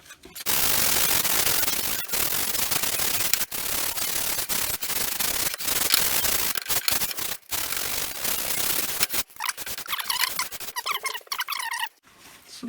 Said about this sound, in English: Right, just a little bit more scraping and sanding.